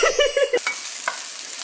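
King oyster mushrooms hitting hot frying oil on high heat for a mushroom sauté, giving a few quick stirring scrapes and rhythmic clacks, then a soft continuous sizzle close by with no talking.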